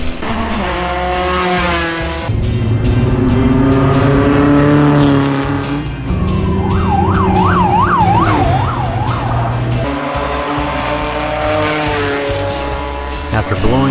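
Race cars speed along city streets in La Paz during a street race, engines roaring loud and close with pitch sweeps as they pass, a siren-like wail rising and falling midway, sustained throughout.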